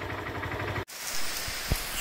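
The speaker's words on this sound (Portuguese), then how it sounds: "Chuva boa nesse momento aqui" Rain falls at a spring in a rural community in Itaporanga, in Brazil's northeast: a steady, dense hiss of drops, briefly interrupted, then continuing with a few louder close splats.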